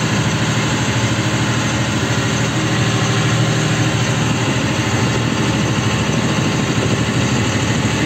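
A tractor engine drones steadily and loudly while pulling a field sprayer across winter wheat in autumn, a constant close mechanical hum with vibration and no break.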